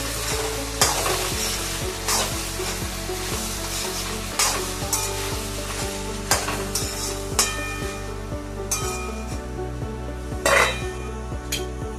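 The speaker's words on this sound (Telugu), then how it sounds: "ఒకసారి మూత తీసి కలుపుతున్నాము." Vegetable potato curry is stirred in a pan, with repeated scraping strokes of a spoon over a steady sizzle and occasional clinks of metal cookware, fairly close.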